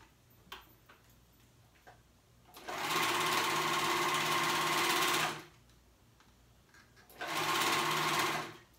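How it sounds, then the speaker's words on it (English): A sewing machine runs in two steady bursts, a few seconds each, with quiet ticking and handling sounds between them, while ruffles are stitched onto a dress. "Take it slow when you're putting ruffles on."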